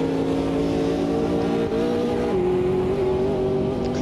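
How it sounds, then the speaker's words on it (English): A race car engine in the Automobilista 2 racing game revs steadily with the clutch slipping. It holds a sustained buzzing drone whose pitch wavers and briefly dips before settling again, with no voices. "Clutch slipping a bit there."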